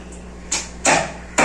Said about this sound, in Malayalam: അപ്പൊ അതിനുവേണ്ടി കുറച്ച് ഇഞ്ചിയൊക്കെ ചതക്കാണ്.